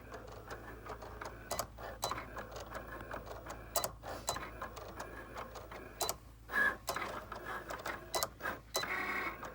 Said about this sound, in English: Once this Cricut light starts flashing, you push it, and that means it's fixing to start cutting the design that you set